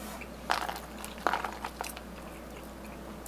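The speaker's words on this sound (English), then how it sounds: "I love a good curly fry." Crunchy Chili's curly fries crackle and crunch in several distinct bites and chews, close and fairly loud over a steady low hum, with no talking.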